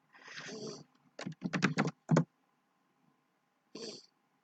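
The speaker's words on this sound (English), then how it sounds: "I'll just type it in" A website address is typed on a computer keyboard: a quick, close run of key clicks lasting about a second, with a person talking before it and briefly after.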